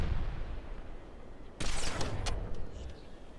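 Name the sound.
sniper rifle shots in video game Halo 2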